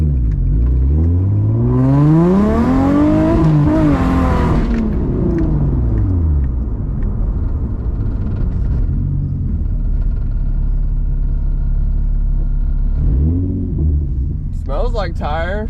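A Nissan G35 with a newly installed engine idles loudly and close, revving up and down with rising and falling pitch early on, then settles into a steady rumbling idle before another brief rev.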